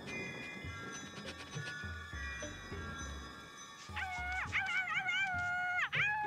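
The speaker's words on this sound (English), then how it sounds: "What's the matter with your dog?" Snowy, the white fox terrier in a Tintin cartoon, howls and whimpers in long rising and falling whines, growing louder and wavering toward the end, with no talk over it.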